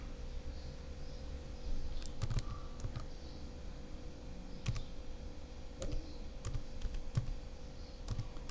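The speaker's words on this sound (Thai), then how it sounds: "โอเคเราก็มาพิมพ์ที่คีย์บอร์ดนะครับ" Computer keyboard typed on in scattered short bursts of clicks over a steady room hum, close and fairly quiet, with no talking.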